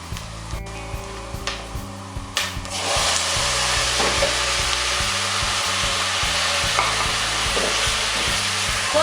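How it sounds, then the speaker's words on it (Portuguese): Onion sautéing until golden in a pan: a few stirring scrapes and clicks, then a loud, steady, close sizzle that fills the rest. "Refogando a cebola, ela já está douradinha"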